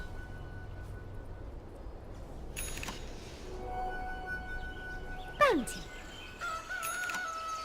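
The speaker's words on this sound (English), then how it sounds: "Oh, there is a rooster." A rooster crows once, fairly clear and mid-distance, rising then falling, over a steady background hum with a few faint other noises and a brief buzzy burst before it.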